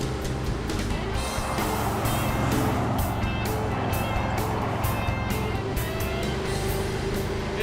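A Chevy Tri-Five car rescued from a junkyard drives along the road, a constant loud engine and road roar with wind noise that holds steady throughout.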